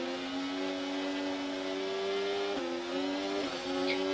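F1 race cars in the video game F1 24 accelerate off a safety car restart, a steady high engine whine with brief dips at gear shifts, moderately loud and without talking.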